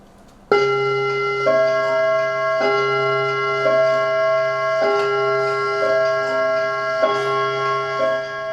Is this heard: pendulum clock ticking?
yes